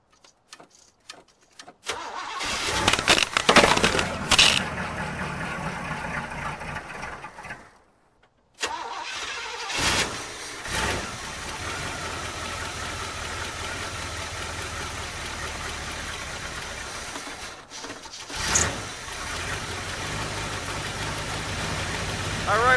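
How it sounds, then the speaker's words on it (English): A 1983 Chevy Silverado pickup engine cranks a few times, catches and roars, then settles into a steady, rumbling idle nearby, briefly revved once more. "as you can see, it fired right up."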